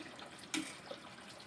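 Tap water runs steadily over raw liver being rinsed in a kitchen sink, a constant soft hiss with one brief splash as the meat is moved, no speech over it.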